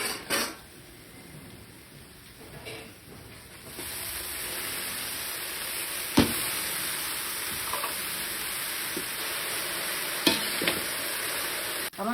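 Spinach tipped into a pan of fried spices, starting with a few clatters and then settling into a loud, steady sizzle with occasional sharp scrapes of stirring, alone with no talk.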